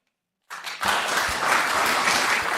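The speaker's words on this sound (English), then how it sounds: "Ask that you refrain your applause" An audience at a city council meeting breaks into applause that starts abruptly from silence and continues as a dense, steady wash of clapping, moderately near.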